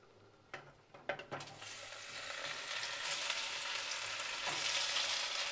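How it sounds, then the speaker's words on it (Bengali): Okra tossed into hot oil and frying, a few sharp clatters as it goes in, then a steady loud sizzle filling the rest without talk. "এখন এই যে ভেন্ডিগুলো মেখে রেখেছি এগুলো এখন ভেজে নেব।"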